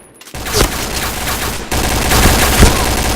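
Rapid bursts of video game gunfire during a clan match, dense crackling shots repeating throughout with a couple of sharper reports standing out, loud and close with no talking.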